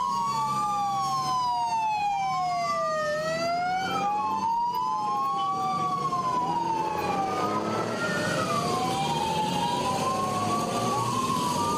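Ambulance siren at a military hospital, a loud continuous wailing tone rising and falling in long sweeps, with overlapping sirens from more than one vehicle weaving together over traffic rumble.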